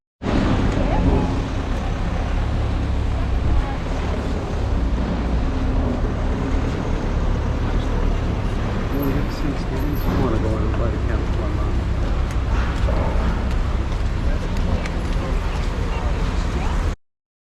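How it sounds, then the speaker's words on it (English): Construction equipment, trucks and cars passing on a Vienna street make a dense, continuous roar of traffic and machinery that never lets up, with voices talking underneath. "there's a bunch of construction equipment and trucks and cars, things like that going by"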